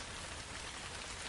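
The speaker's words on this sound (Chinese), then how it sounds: "没有任何一点预兆的下起了倾盆大雨" A heavy downpour drenches an island in a dense, unbroken roar of rain that holds steady at full strength throughout, with no one speaking.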